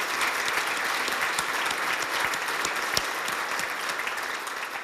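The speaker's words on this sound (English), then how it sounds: "Let's give them a round of applause" Audience at a business appreciation luncheon applauding in a steady, even round of clapping that fills the room and tapers slightly at the end.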